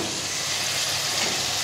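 Sliced bitter gourd frying in a pan, giving a steady, close sizzle with a constant hiss and no voices.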